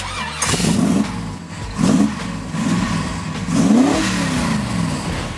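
A street car's engine cranks and catches, then revs loudly in several rising bursts, close by at a drag racing event in Wichita, Kansas, without talk.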